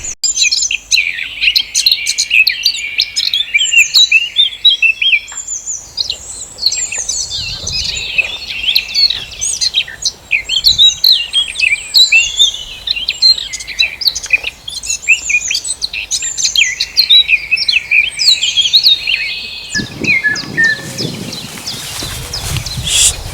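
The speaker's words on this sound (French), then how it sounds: "Et là, on entend le loriot d'Europe." Eurasian golden oriole song picked up through a parabolic microphone in wet meadow country, with a run of bright whistled phrases and chirps over about twenty seconds, set against a low rumble that swells near the end.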